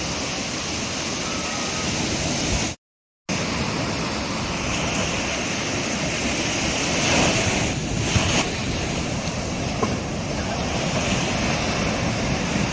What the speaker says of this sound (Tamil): இந்த அலைகளும் வந்து மடங்கி மடங்கி ஒவ்வொரு தரையாக பின்னாடி வரைக்கும் தள்ளி கொண்டு வருது